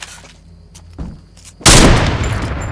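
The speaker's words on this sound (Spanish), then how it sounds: "Que te disparo con mi escopeta de repente." A few distant gunshots pop, then a sudden loud blast with a long rumbling decay, a shotgun firing close by in Fortnite on mobile.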